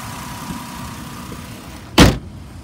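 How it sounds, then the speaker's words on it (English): A 2007 Ford Explorer XLT engine idles with a low, steady rumble, close by, then a single loud thump near the end, like a door shutting. "The motor sounds good."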